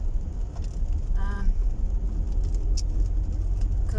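A car drives along a UK road toward motorway services, with a constant low rumble of engine and tyres, a brief tonal whine in the middle, and faint ticks; no speech.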